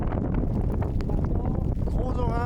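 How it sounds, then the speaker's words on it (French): Strong wind blasting across an exposed mountain pass near 2966 metres ahead of a big storm, a constant heavy roar and buffeting against the microphone that fills the whole moment, loud and close. "Il y a du vent"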